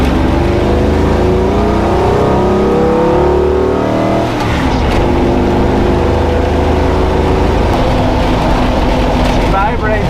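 Engine of a Toyota FJ45 rock crawler running steadily as it drives around town, with shifting rpm and a continuous loud drone throughout, while a person talks over it.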